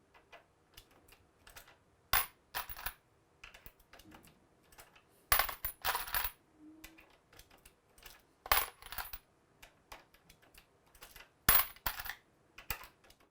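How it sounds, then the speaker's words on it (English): Rifle cases for .25-45 Sharps loads being primed with a Lee Auto Bench Prime, giving sharp metallic clicks and clacks at a bench, repeated in bursts every few seconds with quiet handling noise between. "Here I'm using the Lee Auto Bench Prime, which gives you great leverage, mechanical advantage, and feel."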